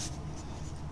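A maths problem being written out by hand: a short, soft stretch of pen scratching on paper, close and quiet, with no speech.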